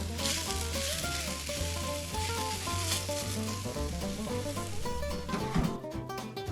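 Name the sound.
Ramly burgers frying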